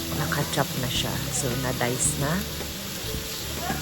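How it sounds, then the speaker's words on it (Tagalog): Beef sizzles steadily in cooking oil in a pan, producing a constant frying hiss. A person talks over it throughout. "And then lulutuin natin yung beef."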